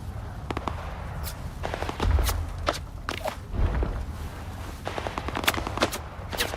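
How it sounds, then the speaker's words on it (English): Scattered gunfire from the game STALKER 2, with shotgun blasts coming from range amid footsteps; several sharp shots land at irregular intervals, a couple heavier booming reports standing out over a steady low background. "They're shooting at me with shotguns from at range,"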